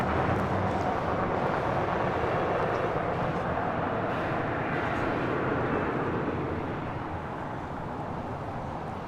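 Airplane departing LAX: a loud, steady broadband jet roar from takeoff, sustained throughout and easing slightly toward the end, with no clear speech over it.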